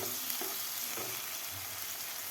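Finely chopped tomato, one large one, frying with onion in a pan while cooking a broccoli bhaji, giving a steady, close sizzle with faint stirring scrapes throughout.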